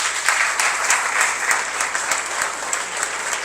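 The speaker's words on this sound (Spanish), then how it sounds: "Un fuerte aplauso para ustedes." Strong applause from an audience at a school innovation event, loud and close, with rhythmic surges of clapping running steadily through the short stretch.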